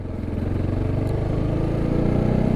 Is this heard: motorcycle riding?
yes